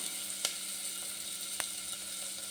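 Shallots frying in a pan for a bottle gourd and cowpea rice dish give a steady, even sizzle, with two brief faint clicks.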